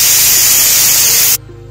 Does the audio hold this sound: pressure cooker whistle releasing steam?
yes